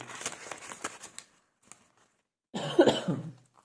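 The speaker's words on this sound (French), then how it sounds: "j'arrête pas de tousser, là" Quiet rustling and small taps are followed by a close, loud cough that trails off, with no speech.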